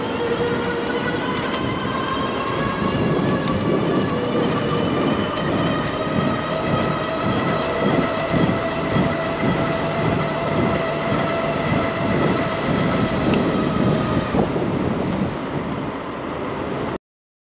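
Lectric XPedition dual-battery cargo e-bike accelerating, a steady rising electric motor whine with harmonic tones climbing in pitch over rough road and wind rumble, continuous and close, without speech.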